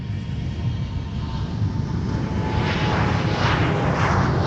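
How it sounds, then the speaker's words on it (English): A SkyWest CRJ900LR regional jet rolls down the runway for departure to Omaha, its engines a steady broadband roar that builds gradually and stays loud throughout, with no voices over it. "Now on the roll for departure is SkyWest 3836 to Omaha. CRJ 900LR."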